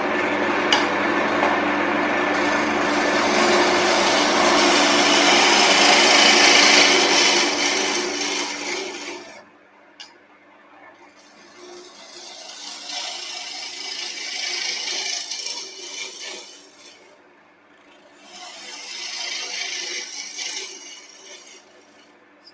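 Wood spinning on a lathe while a turning tool roughs down the bulk of the material, a sustained rasping whir with a rhythmic hum, loud and close, easing off then returning in two shorter scraping passes.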